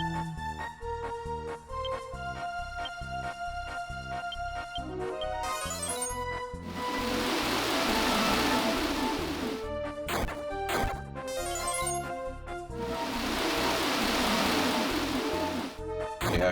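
Coral Rain spell effect from Dragon Quest VII: a rushing, crashing burst of magical downpour with splashy impacts, swelling twice over the game's ongoing musical score, loud and close with no voices.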